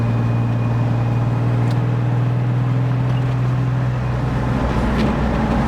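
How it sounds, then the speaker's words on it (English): A Ford Mustang drift car on a test drive with a steady, loud engine hum and road noise rolling continuously throughout, heard from inside the car with no talk. "So we're gonna go on a little test drive and see how she runs."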